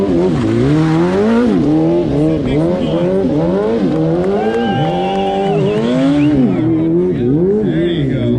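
A BMW S1000 RR stunt motorcycle at a superbike meet-up in Michigan, its engine revving hard and climbing in waves under an announcer's loud commentary, with a brief tire squeal.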